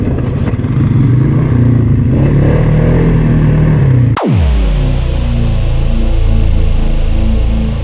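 Polaris Sportsman 570 SP ATV engine running loud and rough at high revs, then cutting off abruptly halfway through, leaving a lower steady rumble and clatter.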